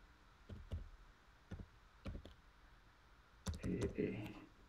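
Keystrokes on a computer keyboard come in short clustered bursts, a few separate clicks and then a denser flurry of typing near the end, fairly close and moderately loud, with some voice-like sound mixed in.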